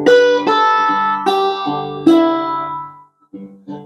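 A four-string cigar box guitar picks one bar of a song, a handful of plucked notes at a moderate pace, each ringing briefly, ending in a short pause and two last notes.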